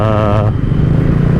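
Kawasaki ZX25R motorcycle fitted with a Streetwolf aftermarket exhaust revving loud and close, a harsh high-pitched engine roar that drops into a rough, throbbing idle.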